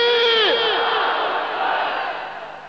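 Large crowd at a religious lecture answering the takbir call with 'Allahu Akbar', many voices roaring together in one loud, sustained shout that rises sharply and then trails off.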